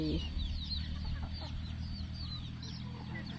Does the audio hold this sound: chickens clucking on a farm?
yes